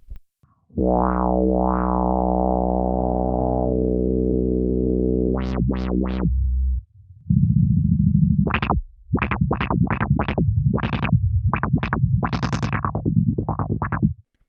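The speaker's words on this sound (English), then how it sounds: "we can pair a distortion with a bass line and a filter to make dubstep wobbles" A Boss RC-505 loop station sends a bass line through distortion and a filter to make a loud dubstep wobble, first a sustained growl, then bursts of sharp, rhythmic filtered wobbles with short gaps between them.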